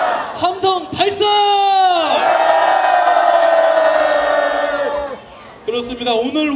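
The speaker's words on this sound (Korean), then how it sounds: "함성 발사." A crowd at a candlelight protest rally in Gwangju lets out a loud, sustained collective shout and cheer, swelling for several seconds before dropping off, with amplified voices before and after.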